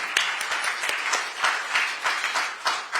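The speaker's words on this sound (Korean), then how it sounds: "다시 한번 박수 부탁드립니다." A hall audience at a Democratic Party of Korea gathering applauds, a steady dense patter of many hands clapping at close range, swelling in small waves without pause.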